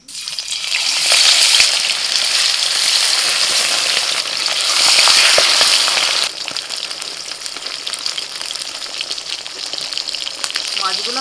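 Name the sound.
fish frying in hot oil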